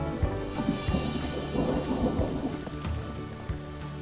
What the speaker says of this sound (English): as I'm sure you can tell, the rain is upon us